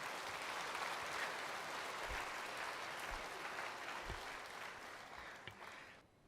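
Faint applause plays back from a clip shown during a sermon, showing a grandfather clapping in front of a main stadium as runners arrive. A soft wash of scattered clapping with a few thumps, quiet and distant, fading at the end.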